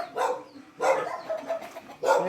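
A dog barks three times, each bark a short, clear, fairly near burst separated by pauses of under a second, with faint background sound between.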